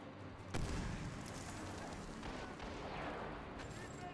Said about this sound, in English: I got mortars on the left.